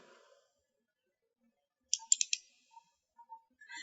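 A computer mouse is clicked in a quick cluster of four crisp, close clicks, followed by a few fainter scattered ticks in an otherwise quiet room.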